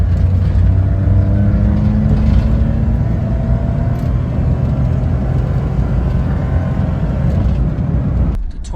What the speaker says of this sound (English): I'll probably do one more acceleration test just so you guys can see.